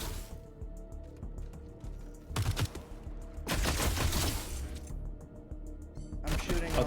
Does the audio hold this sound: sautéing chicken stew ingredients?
no